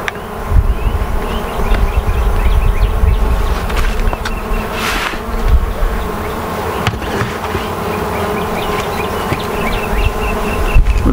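Honey bees buzz in a thick, steady swarm drone throughout a beehive inspection, close and constant with no voices.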